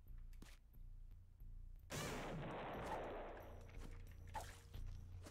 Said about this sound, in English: I'm just gonna bomb myself right here, right now